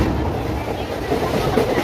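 A train pulling out on the way to Tarapith station, with a steady low rumble and faint rhythmic clatter of the carriages throughout, heard from inside.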